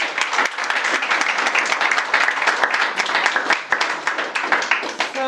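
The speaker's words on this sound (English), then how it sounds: "So a round of applause for Damien, please." Sustained applause from a crowd, steady and fairly loud, with many hands clapping together throughout.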